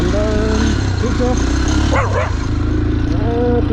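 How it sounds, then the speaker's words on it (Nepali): A dog barking at a Nuwakot bull-fighting fair in Nepal, a few yips and barks at moderate distance over loud crowd chatter and nearby voices. "कुकुर कति कराउँछ"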